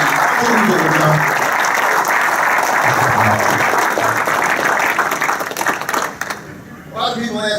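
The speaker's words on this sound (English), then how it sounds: "Can we get a round of applause for them?" Loud crowd applause at a fire department group retirement party, sustained clapping from many guests that thins out and fades near the end, with some voices mixed in.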